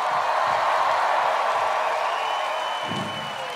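A festival crowd at Gurtenfestival 2019 gives a dense, steady wash of applause and cheering for the two sound engineers at the mixing desk, loud and continuous before easing slightly near the end.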